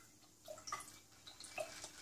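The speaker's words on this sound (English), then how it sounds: "So the sound of splashing" Soft, close water splashing and dripping in a quiet indoor setting, a few light splashes and drips scattered over two seconds with no talking.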